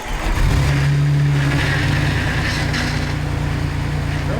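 A 1997–2006 Jeep Wrangler TJ engine running steadily after a power steering pump replacement, a loud continuous mid-pitched engine drone close by with a slight rise early on.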